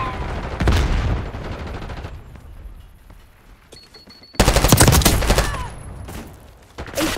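Call of Duty gunfire, loud rapid automatic bursts close by, a long volley at the start, a quieter lull, then another intense stretch of fire and a final short burst.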